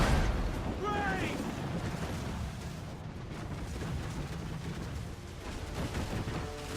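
Ship cannons firing in a naval battle in the video game Assassin's Creed IV: a heavy booming volley at the start rolls into a long, rumbling wash of distant blasts, with a brief shouted voice early on.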